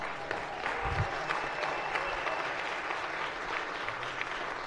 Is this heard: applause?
yes